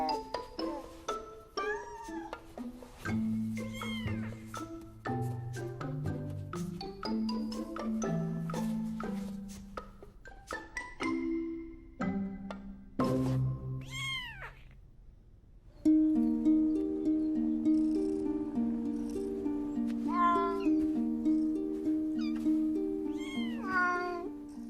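Two ten-day-old kittens mewing in thin, high, wavering cries, repeated in quick irregular bursts close by over soft background music.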